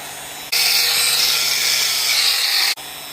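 A repaired angle grinder polisher with its gear reinstalled runs steadily at a loud, even whir for about two seconds, starting and stopping abruptly, with no talk.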